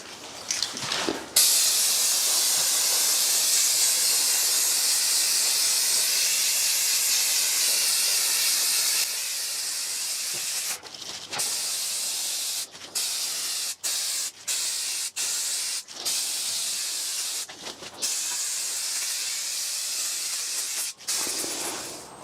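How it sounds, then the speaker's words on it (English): Brake cleaner hisses in a long continuous spray onto a rusty BMW rear differential, followed by a series of short, sharp bursts with brief pauses between them, loud and close. "Just need to give it a clean with some brake cleaner"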